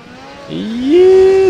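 Moped engine in the video game Contract J.A.C.K., a short revving whine that climbs in pitch and then holds a steady buzzing tone, loud and close.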